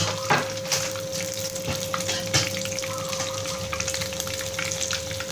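Steady sizzle of breaded mayo risoles frying in hot oil over medium heat, with scattered pops and crackles and a faint constant hum underneath.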